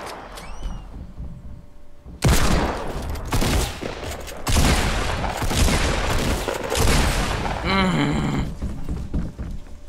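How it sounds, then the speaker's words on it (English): Rapid bursts of gunfire in Fortnite Battle Royale, loud and dense with repeated volleys and thumps, accompanied by game effects and a brief chirping tone near the end. "He dodged all my shots."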